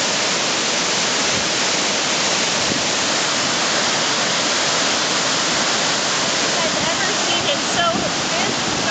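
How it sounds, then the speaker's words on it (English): A waterfall in New Hampshire's Great North Woods at high flow roars in a loud, steady, unbroken rush of pouring water that fills the whole stretch. "This is the most water I've ever seen at this fall."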